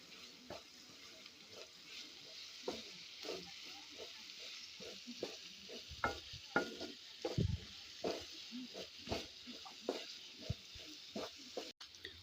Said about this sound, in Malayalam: ഉള്ളിലൊന്ന് വാടുന്ന വരെ നല്ലപോലെ വഴറ്റി കൊടുക്കണം